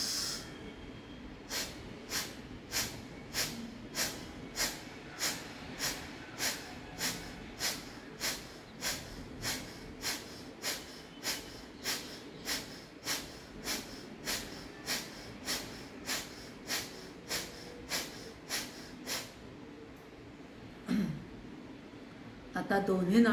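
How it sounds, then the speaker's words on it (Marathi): Forceful pranayama breathing strokes through the right nostril with the left closed: about twenty-eight sharp, evenly spaced nasal bursts in a steady rhythm, close and loud, then a pause with a few softer breaths. "तसंच आता डावी नाकपुडी बंद करायची आहे आणि उजवीनं 28 स्ट्रोक घ्यायचे आहेत"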